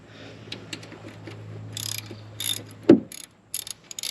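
A ratchet clicks in short bursts while bolts are tightened down on a C5 Corvette, with a sharp metallic clank partway through and quick ratcheting strokes after it.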